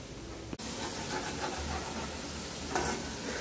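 French fries frying in a home kitchen, a steady broadband sizzle and hiss running throughout at moderate level, with a brief sharp knock near the start and a slight rise in the bubbling toward the end.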